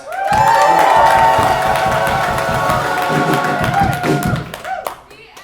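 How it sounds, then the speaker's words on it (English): A big crowd claps and cheers loudly, whoops and shouts over dense applause that gradually thins and fades toward the end. "Can we get one more, like, real big round of applause?"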